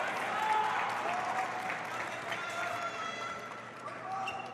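Spectators at a 2018 ITTF World Tour Grand Finals table tennis match applaud and cheer, a dense steady wash of clapping and crowd noise with no voice above it.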